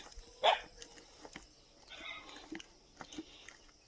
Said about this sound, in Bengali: কুকুরগুলো আমাকে দেখে বেশি করে ডাকছে